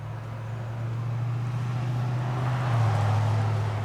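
Steady, low engine drone from a car running on an HEI distributor, close and continuous, rising slightly in pitch as the revs climb partway through.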